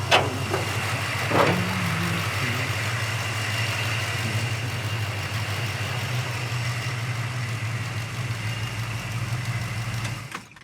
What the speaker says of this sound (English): Engine runs great.